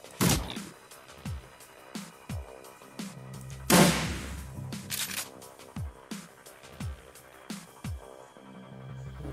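Single gunshots in the game Shadowrun Returns, a series of distinct sharp reports spaced roughly a second apart with one louder, longer burst in the middle, no talking.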